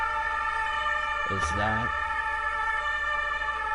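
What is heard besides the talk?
sirens in video game Across the Moon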